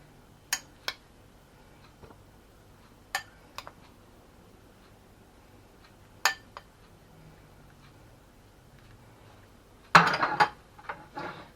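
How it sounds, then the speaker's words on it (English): Salsa is spooned over vegetarian taco pasta in a quiet kitchen, with sparse sharp clinks of a spoon against a pan or dish, then a busier cluster of scraping and tapping at the end. "We're going to spoon over half of the salsa."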